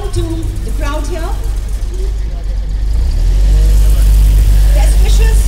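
A 1929 Ford vintage car at a vintage car rally rumbles nearby and grows louder and deeper as it pulls away, while an announcer talks over a public address system.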